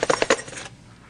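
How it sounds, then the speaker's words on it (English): Metal keys rattle briefly inside a pink gift box being shaken, a quick series of bright jingling clinks lasting under a second, close and alone. "Sounds like you've got some keys in here."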